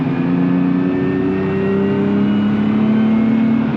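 A rally car accelerates hard around the Nogaro circuit, its engine note rising steadily in a loud, continuous drone that climbs through the revs without a break.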